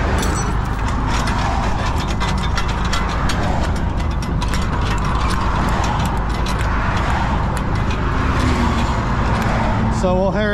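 Ratchet chain binders tighten chains on a trailer, giving a series of quick metallic clicks and clanks close by under ongoing roadside traffic noise, with people talking.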